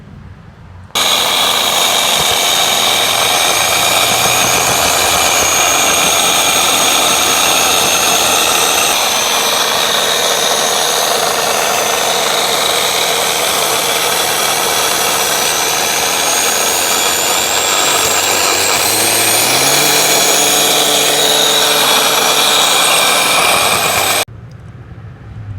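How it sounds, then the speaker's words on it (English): A small front-wheel-drive Honda drag RC car motor whines at high pitch on a dyno, holding a steady, loud drone with rising and falling revs throughout, no voices over it. "this was just me revving up the car and raising up, you know, the RPMs with the throttle"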